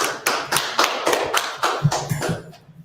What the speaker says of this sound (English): Nice clap it up for the brothers.